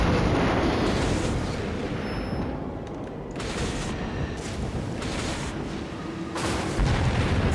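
Battleship secondary guns fire automatically in World of Warships, producing a heavy, continuous rumble of booming artillery reports layered over a roaring background, loud and dense throughout.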